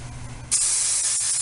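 Hairspray sprayed onto hair while styling a retro rockabilly hairdo: a quiet moment, then a sudden close, loud, continuous aerosol hiss that holds steady for about a second.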